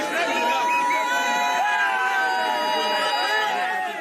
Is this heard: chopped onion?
no